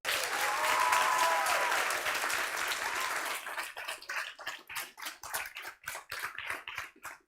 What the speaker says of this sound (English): Please join us in a second round of applause for Madalena and Clara.